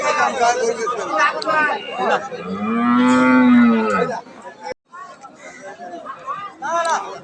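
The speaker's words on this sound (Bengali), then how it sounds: "এটা সিন্ধি গাভি বলা চলে গরুটা কিন্তু মাসাল্লাহ বেশ সুন্দর" A Sindhi cow lows loudly and close by in the middle of a busy cattle market, one long drawn-out moo rising over the steady chatter of people talking nearby.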